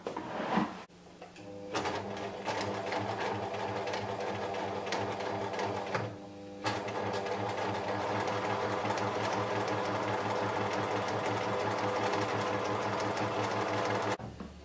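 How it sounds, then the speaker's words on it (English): A sewing machine runs steadily and close by, stitching the leg hem of a pair of boxer shorts, with a brief pause and restart partway through and no talking. "I'm going to go ahead now and I'm sewing closest to this side here."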